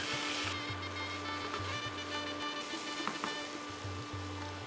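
Pre-fried potatoes sauté with coconut and chickpeas in a pan for a Bengali wedding-style aloo kumror chhokka, giving a soft, steady sizzle with faint stirring scrapes under a low background hum; there is no talk.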